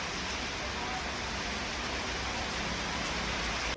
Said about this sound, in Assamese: মই কৰবাত যাব ওলালে মানে বৰষুণটো দিয়ে